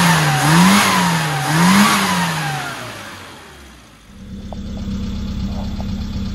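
A tuned car engine on the road during a test drive revs hard through two rising gear pulls, then settles into a steady lower drone as the car cruises, loud and close with no talking.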